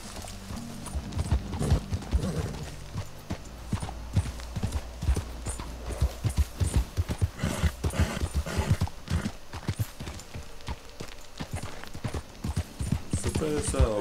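A horse gallops in Red Dead Redemption II with steady, loud clip-clop hoofbeats throughout, mixed with game ambience and occasional voices.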